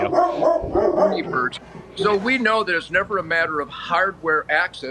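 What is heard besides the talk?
guard dog barking in the studio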